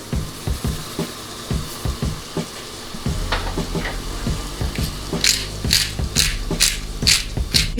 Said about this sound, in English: we're going to cook our tuna steaks